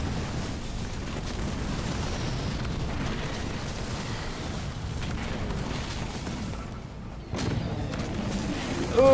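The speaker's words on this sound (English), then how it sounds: "Oh my god, the mega turret is targeting the main!" In a Halo Wars 2 match, a mega turret fires on a main base as a dense, rumbling barrage of low booms and blasts rolls on steadily, dips briefly, then surges again.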